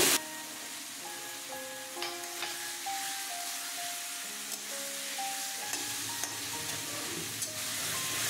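Potatoes frying in hot oil in a pan for a thin katla fish curry, a steady close sizzle with light scrapes and clinks of stirring throughout.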